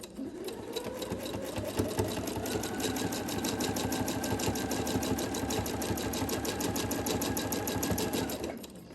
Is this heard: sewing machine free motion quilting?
yes